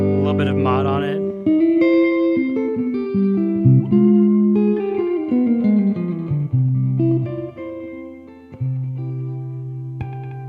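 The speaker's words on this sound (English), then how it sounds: "which is like a multi-head delay." Electric guitar phrases ringing out with repeating, overlapping echoes from a multi-head delay pedal on its Magneto setting, notes trailing into each other, ending on a held sustained note.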